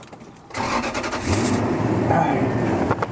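A car engine turns over and catches on a hot day, starting abruptly after half a second of quiet and settling into a steady, close idle that runs to the end.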